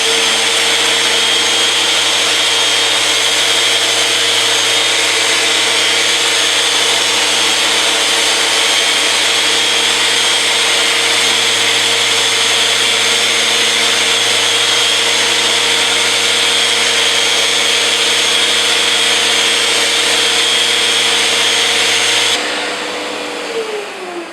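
A Festool Rotex 150 sander whirs loudly and continuously against wood for over twenty seconds, a steady high motor drone close by that winds down at the very end.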